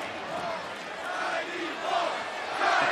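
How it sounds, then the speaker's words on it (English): A wrestling arena crowd in Cleveland at WWE Raw roars and chants in a steady swell, with the noise rising and falling and a commentator talking over it. "Crowd here in Cleveland."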